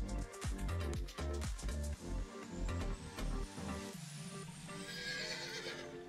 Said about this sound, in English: Keep on petting the horse.